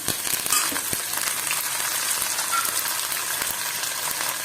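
Four or five dried red chillies and curry leaves fry in hot oil, a steady crackling sizzle with scattered pops and light clinks throughout.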